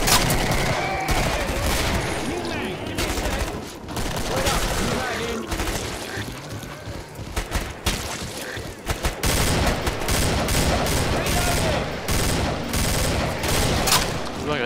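Rapid hand cannon gunfire in the video game Killing Floor, a dense run of loud sharp shots and bursts of fire with brief pauses, over a noisy game-combat background.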